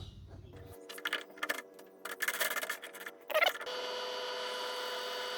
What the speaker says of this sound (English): we'll bang this 10 mil drill bit in and we'll drill the eyes